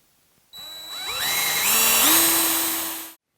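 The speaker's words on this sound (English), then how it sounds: "Just using a forcer bit to make a mortise." Power drill with a Forstner bit boring a mortise in wood for a tabletop fastener, one loud whine that rises in pitch as the motor spins up, holds about two seconds, then stops abruptly.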